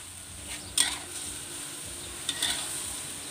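Sweet pork stir-fries on high heat in a wok, a soft, steady sizzle broken by two sharp utensil scrapes; no one talks.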